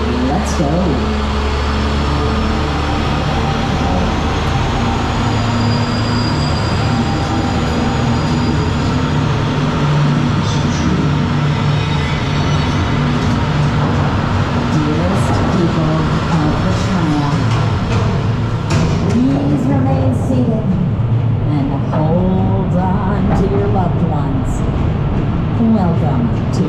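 Universal Studios Hollywood studio tour tram riding along, a steady loud low rumble and rolling hum throughout with a faint whine, people talking over it.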